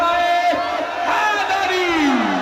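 A crowd at a mehfil shouting religious slogans in unison, a loud sustained chorus of voices rising and falling together with one voice sliding downward at the end.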